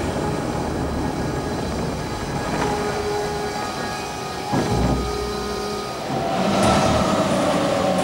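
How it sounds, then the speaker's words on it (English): A maglev train on an elevated guideway in Emsland glides to a halt, a steady rumbling whir with whining tones that eases down, then settles with a brief clunk and a louder hum at the end; no talk. "Electric motors slow the traveling magnetic waves until the train stops and settles"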